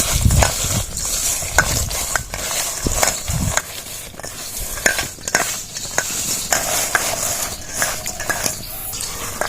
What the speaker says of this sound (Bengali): আমি পাঁচশো মতো চিনি দিয়ে দেব ভালো করে মেখে রাখবো আমগুলো